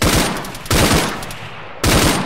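Bursts of rapid automatic gunfire ring out in a helicopter ambush in a video game. There are three loud sustained volleys with short gaps between them, and no talking.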